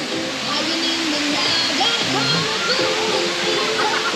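A steady, full rush of a waterfall and river water pours continuously at a resort in Cavite, while voices talk over the flowing water.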